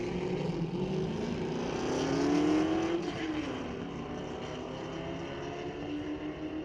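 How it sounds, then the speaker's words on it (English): Yellow and black Corvettes drag racing at a Friday night street-legal drags meet at Mission Raceway Park: a steady engine roar swells to a loud peak midway, then settles into a lower, continuous drone. "Your yellow Corvette beats my black one to the finish line."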